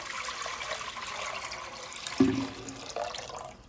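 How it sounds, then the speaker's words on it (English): Two quarts of water splash and gurgle as they pour steadily into a pot, with a brief louder gush near the end. "pour it all into the pot"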